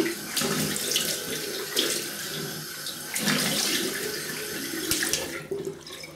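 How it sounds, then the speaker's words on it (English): Tap water running steadily into a sink for a cold rinse after a shave with a Gillette Heritage razor, a continuous close splashing flow with brief surges and no talk. "Cold water rinse."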